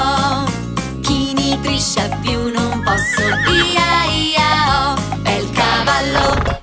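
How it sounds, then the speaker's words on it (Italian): A horse neighs within a lively Italian children's farm song, the whinny rising over bouncy music and singing. "Il cavallo, ca, ca, cavallo, nella vecchia fattoria"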